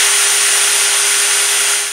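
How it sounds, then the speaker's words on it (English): A power drill running in reverse to drill out a GMT900 Yukon's third brake light fitting whines steadily, high, loud and close, with no change in pitch or rhythm. "chuck a drill bit in your drill, set it in reverse, and then drill that out"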